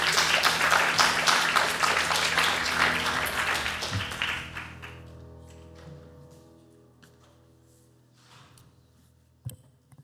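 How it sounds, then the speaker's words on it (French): A conference audience at a summit gives a speaker a round of applause, dense loud clapping that gradually thins and dies away over several seconds, leaving a quiet room with a few stray sounds. "Un petit peu d'applaudissements pour Romain."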